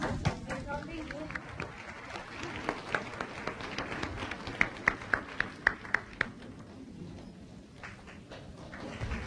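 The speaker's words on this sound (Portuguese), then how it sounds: "Pelos aplausos, julgo que a mestra está a chegar." Audience applause ringing through a hall as Supreme Master Ching Hai arrives at a Portugal lecture, a steady wash of clapping with sharp individual claps standing out, people talking over it.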